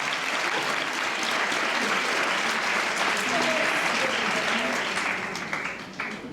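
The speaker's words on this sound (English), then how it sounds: "A round of applause for this young lady." Audience applause at a fan convention panel, dense steady clapping from a crowd filling the room, then tapering off near the end.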